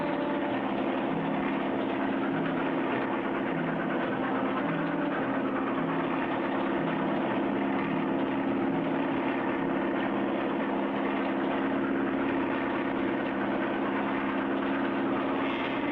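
A low-flying airplane engine hums continuously at an even level, a loud sustained mechanical roar with a low pulsing undertone and no talking.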